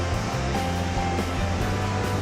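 Ocean waves wash continuously against a seashore, a loud, steady roar of surf with broad hissing spray and no voices.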